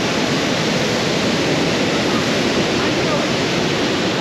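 Waterfall in the Brecon Beacons, Wales, roaring as a steady, dense broadband rush that stays constant and close throughout with no letup.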